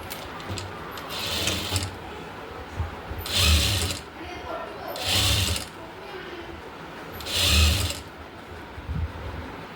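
A sewing machine stitching fabric for a V-neck nightdress sounds in three loud, close mechanical bursts a couple of seconds each, separated by quieter gaps with faint handling noise.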